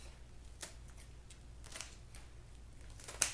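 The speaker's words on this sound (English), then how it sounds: "I'm going to take some scissors, and I'm going to cut" A few quiet, crisp snips of scissors cutting excess plant roots off cannas or dahlias, spaced apart, with a sharper cut near the end over faint background hiss.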